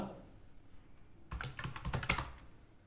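Rapid clicking of keys on a computer keyboard as a line of text is deleted and retyped, quiet at first, then a close, brisk run of irregular taps.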